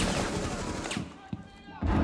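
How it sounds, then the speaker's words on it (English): Grenade blast in the Rainbow Six Siege video game, a loud, dense burst of explosive noise and rumble that fades briefly and then surges again near the end. "I'm throwing a grenade."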